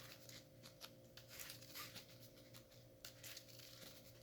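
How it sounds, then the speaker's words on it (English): Faint, soft riffling and sliding of a deck of trading cards for a light-dragon card game, a steady papery shuffle with small clicks and nothing else. "So we're going to shuffle up here."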